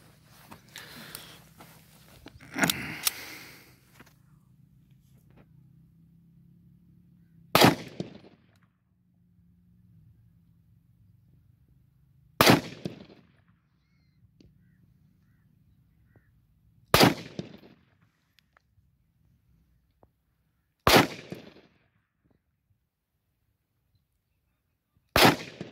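A 43-year-old TT pistol is fired from a seated position outdoors: five sharp, loud single shots spaced several seconds apart, with quiet handling noise before the first shot and near-silence between shots.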